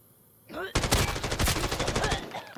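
In the video game Arena Breakout Infinite, a brief sound is followed by a rapid burst of automatic gunfire, loud and close, with sharp repeated shots for about two seconds before stopping.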